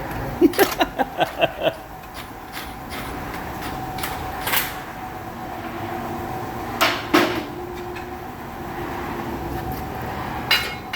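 A quick burst of about seven sharp blows from a Klein Tools 6-pound hammer during wheel bearing work on a 2016 Dodge Ram 1500, followed by scattered single strikes and knocks against a low background hum.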